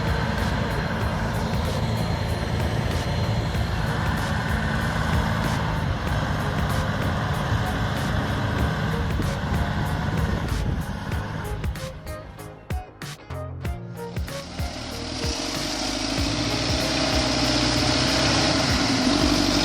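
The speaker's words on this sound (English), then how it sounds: "Its turbocharged 4-cylinder diesel D245 engine with about 100 horsepower is strong, but the terrain and heavy load make it struggle to move." A Belarus MTZ 1025 tractor with a turbocharged four-cylinder D245 diesel of about 100 horsepower labours in mud on rough ground, pulling a trailer loaded with logs. The engine drones loud and steady, dips briefly, then builds to a strained roar again.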